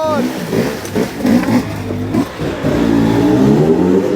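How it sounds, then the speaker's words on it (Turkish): An enduro motorcycle engine revs hard at the Bergama enduro race, rising and falling in bursts, with excited voices shouting over it nearby. "benim de hoşuma gidiyor böyle gaz vermek"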